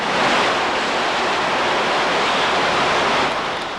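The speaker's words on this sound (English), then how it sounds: "This break sent water gushing into the streets and it flooded a tunnel." Water from a broken main in New York gushes into a street, a dense, steady roar of rushing water, loud and continuous throughout with no pauses.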